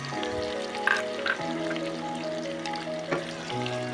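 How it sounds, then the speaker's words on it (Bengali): Onions frying in hot mustard oil for an egg and potato curry, a close steady sizzle with a faint background hum and a couple of soft clinks, no talk. "পেঁয়াজটাকে ভালো করে প্রথমে ভেজে নিতে হবে, যতক্ষণ না একটু ব্রাউন কালার না হচ্ছে"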